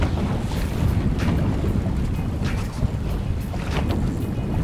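A fishing boat trolls three lines at about 7-8 knots, giving a steady loud rush of engine, hull and water noise with wind buffeting the microphone throughout.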